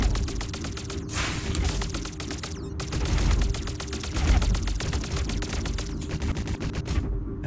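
Spaceship weapon shots in the space game Underspace, a steady rapid stream of sharp mechanical blasts firing almost continuously, with brief gaps and a low droning hum underneath.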